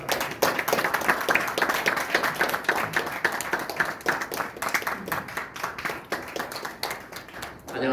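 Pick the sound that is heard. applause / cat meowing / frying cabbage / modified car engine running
applause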